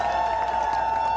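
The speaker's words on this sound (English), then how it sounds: "Let's give a round of applause to Lithuania" Cheering and applause come from a rally crowd for Lithuania at a Stand for Ukraine event in New York, a short steady roar with scattered clapping throughout.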